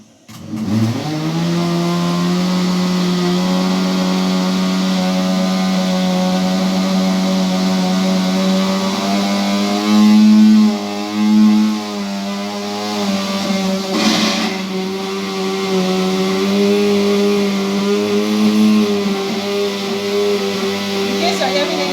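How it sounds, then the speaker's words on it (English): A kitchen blender runs continuously at close range, a steady whirring motor drone that shifts pitch a few times as the load changes, with people talking over it. "In case you're hearing any sound, it's the blender."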